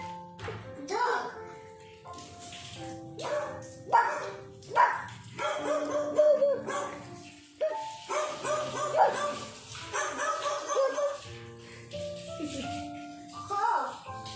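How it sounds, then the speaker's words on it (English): A dog barks in a series of short, separate bursts and yips spread across the stretch, mixed with a voice. "Dog."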